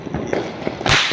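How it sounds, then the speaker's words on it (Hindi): A Diwali firecracker pops with a few small snaps, then bursts into one loud, sharp crack that rings out briefly near the end. "लग रहा है काफी दमदार पटाखा पूरा आ रहा है भाई, बैक टू बैक आ रहे हैं।"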